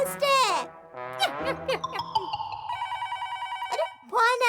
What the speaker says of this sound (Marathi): अरे फोन आला.